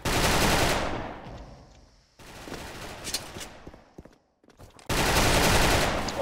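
Automatic gunfire from the online shooter Special Force, loud rapid bursts in three blocks separated by quieter scattered shots and a brief near-silent gap, with no talk over it.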